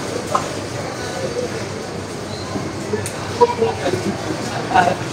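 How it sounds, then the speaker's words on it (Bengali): Passenger train at Chittagong station setting off for Cox's Bazar, a low continuous rumble with faint clanks and scattered crowd voices and talk over it. "এই ট্রেনটা কক্সবাজার যাবে"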